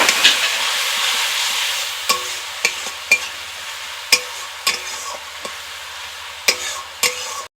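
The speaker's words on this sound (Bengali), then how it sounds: "এখন সব কিছু ভালো করে কষিয়ে নেব" Spice masala with a splash of water being sautéed in a pan for fish curry: sharp, scattered spatula scrapes and taps over a quiet sizzle that fades after a louder start, heard close up with no talking.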